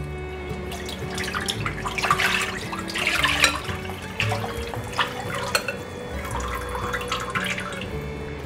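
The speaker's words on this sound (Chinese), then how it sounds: "把调好的粉浆搅一搅，缓缓的倒入锅内" Flour batter for a rice-flour cake is stirred and then slowly poured into a pot over low heat, giving wet sloshing and trickling liquid sounds with soft clinks, close by throughout.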